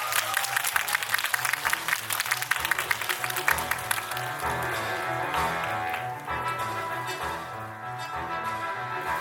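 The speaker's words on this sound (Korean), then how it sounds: "박수로 환영해 주세요" Loud, sustained applause from an audience at a Netflix film special talk event, dense clapping filling the room throughout with a slight swell and dip near the end.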